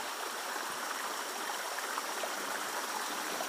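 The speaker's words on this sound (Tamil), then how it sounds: "செடிக்கு உள்ளே இருந்து தண்ணி போகுது" Water from a stream in a forest in elephant country flows hidden through dense plants, a steady, hissing rush with faint trickles that holds an even level throughout, close by and with no voices.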